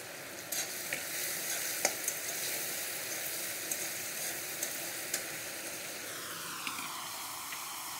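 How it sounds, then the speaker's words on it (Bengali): Chopped medium tomatoes frying in a pan for a Bengali vegetarian curry, a steady close sizzle with light crackles and occasional stirring clinks, no voices. "দুটো মাঝারি সাইজের টমেটো কেটে নিয়েছি, দুটো টমেটোই দিয়ে দিচ্ছি একটু।"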